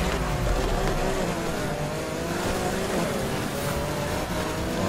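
A 2016 Volkswagen Golf GTI Clubsport in the Need For Speed Heat racing game, tires squealing over a loud, continuous engine roar as it speeds hard through a turn.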